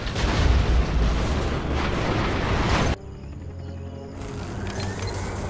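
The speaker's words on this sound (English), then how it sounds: "Arming cruise missile." A cruise missile strike in the Alpine Assault skirmish game: a loud, dense rumbling blast roars for about three seconds, then cuts to a quieter low rumble with faint crackling debris trailing off.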